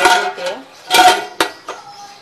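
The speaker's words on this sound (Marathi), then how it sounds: "त्याच्यामध्ये हे भांडे ठेवते।" A metal vessel is set into a pot of hot water while guava pieces are being prepared for barfi, giving a few sharp clanks and scrapes of pot against pot, close and fairly loud, with no talk.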